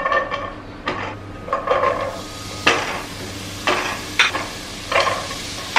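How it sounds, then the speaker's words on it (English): Vegetables drop one by one into a pan with a few drops of olive oil, each addition giving a quick sizzling burst and clatter against the pan over a low, steady fry, close and uneven in rhythm. "One after another, I'll start adding the veggies."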